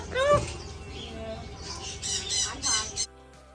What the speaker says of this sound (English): She also has a couple of store birds, like my buddy Jasper here, and my favorite, Roscoe.